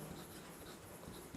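Pen or chalk writes by hand during a Class 12 maths lesson on differentiation, a faint scratchy scribbling that runs steadily over quiet room noise.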